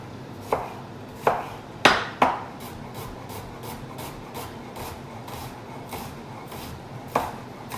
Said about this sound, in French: un oignon haché